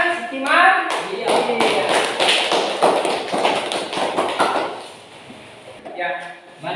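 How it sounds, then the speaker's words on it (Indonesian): A classroom bursts into a few seconds of brisk applause, dense clapping from many hands nearby, with a teacher's voice before and after. "berikan aplaus kepada Sitiman"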